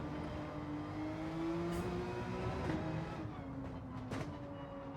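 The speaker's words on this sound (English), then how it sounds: "I want the car to shift down so it would brake." A car engine downshifting to brake into a corner in Gran Turismo 7: a sustained engine drone whose pitch steps and falls as gears change, with faint mechanical blips, steady and moderately loud.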